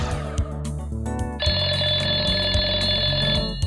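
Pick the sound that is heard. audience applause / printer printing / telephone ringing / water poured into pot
telephone ringing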